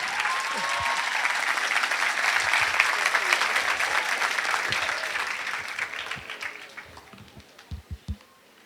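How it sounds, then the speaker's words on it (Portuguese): An audience applauds to welcome the speaker Dr. Rodrigo Silva, with dense, even clapping that swells and then thins in the last seconds into a handful of separate, distinct claps. "recebamos agora com muito carinho a salva de palmas do Dr. Rodrigo Silva"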